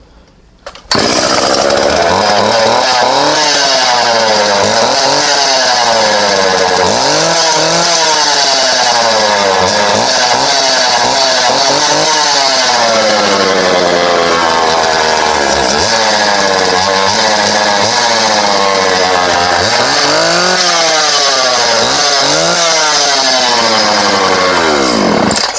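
A two-stroke Homelite Super 2 chainsaw engine runs loud and close, revving and falling in repeated surges for a long stretch after a brief quiet start.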